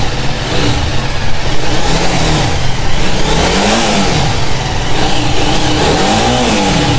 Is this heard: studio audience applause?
no